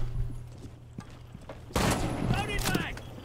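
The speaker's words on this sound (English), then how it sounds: "Dude, the shotgun is great." Shotgun blast in a video game, a loud burst of gunfire with a ringing tail following a quieter stretch, heard in a short exchange of game sounds.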